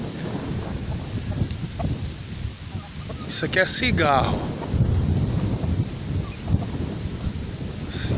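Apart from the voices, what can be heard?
strong wind blowing in a pasture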